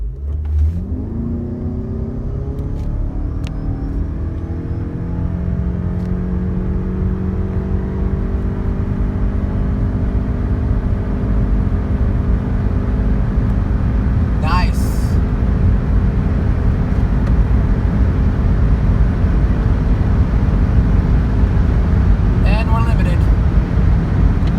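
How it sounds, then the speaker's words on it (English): A Toyota RAV4 Prime plug-in hybrid launches from a power-braked standstill and accelerates flat out on an empty road, its engine drone rising steadily for about twenty-five seconds, with a couple of brief clicks along the way. "Doing 0 to 60 in top speed run here on an empty road."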